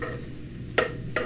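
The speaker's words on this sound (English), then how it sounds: "Now it's starting to sizzle." Food frying in a pan, a steady close sizzle with a faint hum underneath and two brief louder crackling bursts near the end, no talking.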